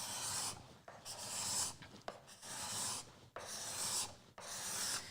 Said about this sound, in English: I'm going to go right in here and see if I can get rid of that with the scraper